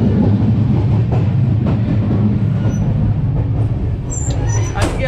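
The Sealdah–Puri Duronto Express runs along the track, heard from inside as a steady loud rumble of wheels and carriage noise with faint rattles throughout.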